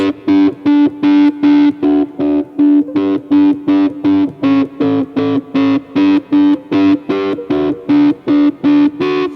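Electric guitar played through a lo-fi effect like a small broken radio speaker, hybrid-picked with fingernails, giving a steady rhythmic run of evenly spaced, thin, distorted notes, loud and close with no talking.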